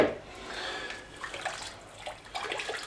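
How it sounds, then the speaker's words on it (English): Chicken stock pours into a soup pot, a splashing, gurgling liquid stream that rises and falls in uneven surges, fairly close and moderate in level, with no speech. "Now we're also going to be adding 2 litres, 4 cups of stock."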